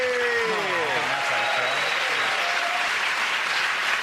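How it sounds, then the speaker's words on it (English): Studio audience applause on the comedy panel show Mock The Week, a loud, sustained wall of clapping with a voice speaking over it at the start. "ladies and gentlemen, again, that round of applause going to Russell, Joe and Andy."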